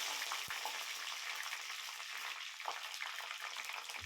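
Mustard seeds, curry leaves and green chillies frying in oil for a country chicken dish, a soft continuous sizzle with a few sharp spoon taps, quiet and close, with no speech.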